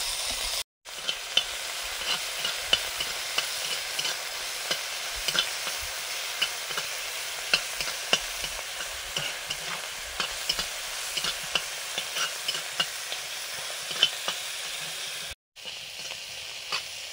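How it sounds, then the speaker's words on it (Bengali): Shrimp seasoned with salt and turmeric stir-frying alongside lightly fried taro and vegetables, a steady close sizzle broken by frequent scraping and clattering stirs for the whole stretch, no talk. "সবজিগুলো সাইড করে দিয়ে চিংড়ি মাছটা ভেজে নিয়েছি নুন হলুদ দিয়ে"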